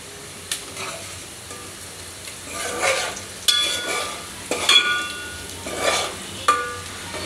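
A spoon stirs turmeric frying in a pan, giving soft scraping strokes and metallic clinks at intervals over a faint, continuous sizzle.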